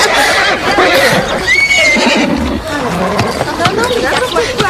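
A horse whinnies loudly amid people talking and moving nearby while horses are being loaded, with shuffling and scraping noises in the background, in the animated series Grand Galop.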